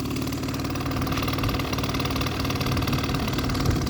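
A 2001 Hyosung Sense scooter engine idles steadily and close, a continuous putter with an even rhythmic pulse, loud and alone with no talk.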